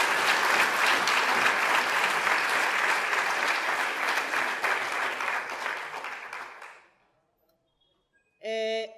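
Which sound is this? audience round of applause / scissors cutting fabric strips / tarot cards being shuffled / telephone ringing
audience round of applause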